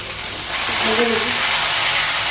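Cumin powder, salt and ginger paste frying in a home kitchen pan, a loud continuous sizzle and hiss that swells after a soft clatter and stays steady throughout.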